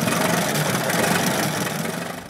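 A 1908 Mors veteran car's big engine runs just after being hand-cranked to life, a loud, rough, steady idle with a low rumbling throb close by, easing slightly toward the end.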